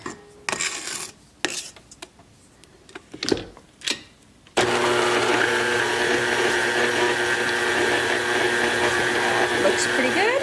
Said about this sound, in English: And this is called creaming the butter and sugar.